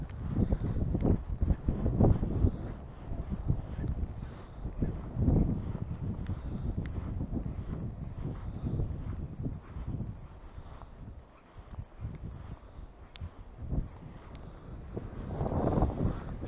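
Wind buffets the microphone in low, rumbling gusts throughout, swelling and easing, with no talking, while fishing outdoors.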